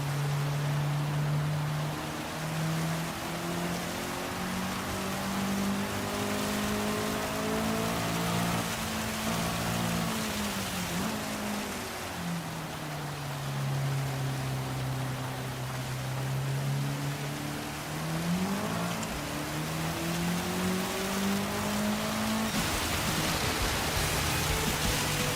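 Racing car driving in the rain in Gran Turismo 7, a steady engine drone with gear-shift pitch dips under a constant broadband hiss of rain and spray, loud and unbroken throughout.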